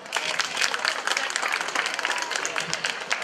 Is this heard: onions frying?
no